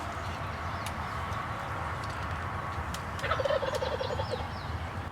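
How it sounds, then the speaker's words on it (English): A wild turkey gobbler in Indiana woods gobbles loudly at close range, about fifteen yards off, with a rattling burst near the end over steady outdoor background noise. "He's about 15 yards away, gobbling like crazy."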